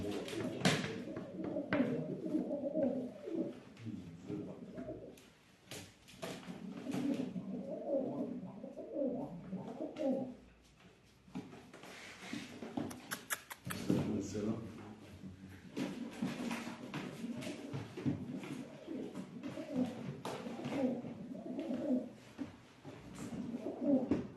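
Pigeons coo steadily in low, rolling phrases throughout, several birds overlapping, with occasional rustles and flutters in the background.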